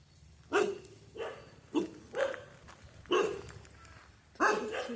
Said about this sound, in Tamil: இந்த நாய் வேற எனக்கு கடிக்கிற மாதிரியே பண்ணுது.